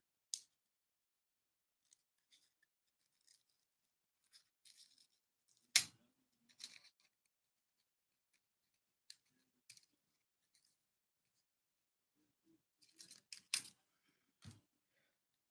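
Scissors trim a paper olive cutout in short, sharp snips separated by silence, quiet and close, with a few louder cuts clustered near the end.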